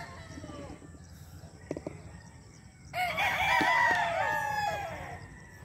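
Chickens in a coop on a farm, clucking near the mic at first, then a loud rooster crow with several overlapping cackles and clucks, no talking.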